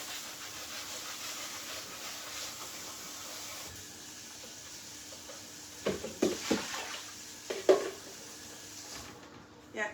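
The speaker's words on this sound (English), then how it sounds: "I'm just giving it a rinse." Broccoli rinsed in water with rock salt, a steady hissing wash of running water with a cluster of louder splashy sloshes toward the end and no talk.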